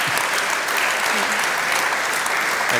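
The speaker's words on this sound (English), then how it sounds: "Can we give a big clap to Celia and John?" Audience applause after a talk on ethics and care, a dense, steady wash of clapping from a full room that holds evenly for the whole stretch with no voices over it.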